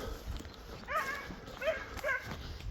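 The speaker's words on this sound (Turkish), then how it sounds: "Köpek sesleri geliyor arkadaşlar buradan." Several short dog yelps and whimpery barks in quick succession, moderately loud against a noisy outdoor background.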